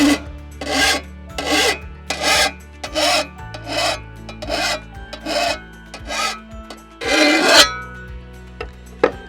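Hand file rasping along a shovel edge to form a bevel, roughly a dozen loud, even strokes in a steady back-and-forth rhythm, close up with no talking.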